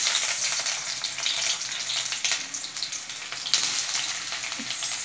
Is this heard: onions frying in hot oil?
yes